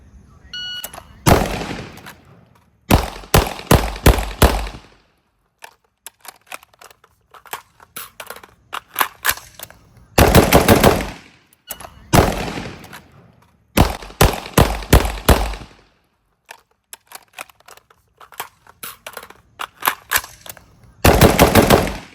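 A rifle and a pistol fired continuously without sights at an outdoor range, loud rapid bursts of shots in separate strings broken by short silent pauses.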